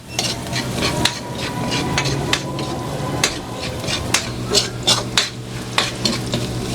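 Garlic sautés in hot oil in a pan for adobo, a continuous close sizzle broken by repeated sharp scrapes and clinks of a spatula stirring against the pan, with no voices.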